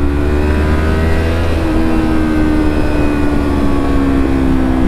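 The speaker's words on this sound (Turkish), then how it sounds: "Artık shifter var ya, tak diye atıyorum vitesi" A motorcycle engine on a motovlog ride drones loudly and steadily up close, with a quick-shifter snapping through gears while the pitch climbs and levels off under heavy wind rush.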